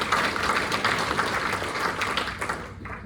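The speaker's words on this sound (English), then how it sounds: "we should give Singleton Diggers a big round of applause" Community meeting audience applauding in a club room, a lively round of many hands clapping close and full at first, then tapering off in the final moments.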